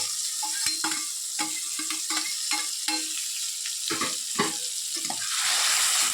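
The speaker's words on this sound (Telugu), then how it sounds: "ఇప్పుడు అవి కూడా వేసి కొంచెం ఫ్రై చేస్తాను" Dried prawns fry with onions and tomatoes in a pan for a Telugu ridge gourd curry, giving a steady close sizzle broken by repeated sharp clinks and scrapes of a spoon stirring, with no talking.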